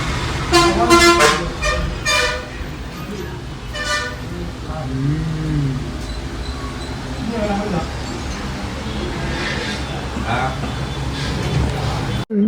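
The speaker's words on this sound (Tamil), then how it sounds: "ஒரு பஸ் போயிட்டு தெரியுதுங்களா அது ஊட்டி போகிற பஸ்ஸு" A bus bound for Ooty passes on the road, sounding several horn blasts early on over engine and traffic noise, while people talk throughout.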